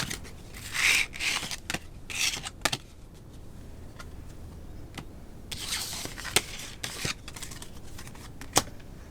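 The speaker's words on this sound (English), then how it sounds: "There I go again, mixing up cards." Tarot cards shuffled by hand in a quiet room, giving soft papery riffles and rustling bursts with brief pauses between, plus a few sharp clicks as the deck is squared.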